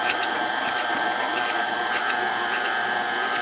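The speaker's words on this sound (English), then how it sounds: "Now we're just gonna blend this all up until it gets all evenly mixed." An electric mixer whirs steadily as it blends a thick Butterfinger pie filling with a cookie-dough consistency, a constant close motor drone with no pauses or talk.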